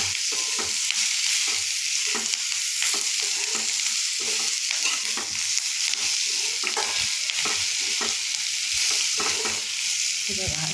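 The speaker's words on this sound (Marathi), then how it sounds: "आता यामध्ये मी शिमला मिरची घालत आहे. शिमला मिरची पण छान त्यामध्ये परतून घ्यायची आहे." Capsicum (bell pepper) is stir-fried in a pan, with a continuous loud sizzle broken by rhythmic scraping strokes as the pieces are turned, and no voices.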